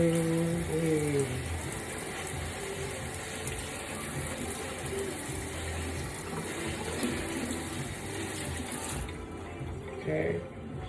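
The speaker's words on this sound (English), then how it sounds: "I'm actually gonna rinse the leaves off too because I see" Tap water splashing over the dusty leaves of a houseplant being rinsed during water propagation, a steady close hiss of running water with clinks and rattles of handling throughout.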